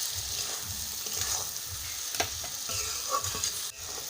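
Cabbage and potato fry in a pan with chilli, cumin, coriander and turmeric powders and salt, a quiet continuous sizzle broken by rhythmic stirring scrapes.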